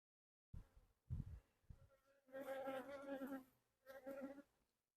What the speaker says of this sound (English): Oh, a lot of bees down in that back area.